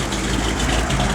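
A 1955 Chevrolet Bel Air sits idling with a lumpy cam, giving a steady, close, low engine rumble with a faint pulsing lope throughout.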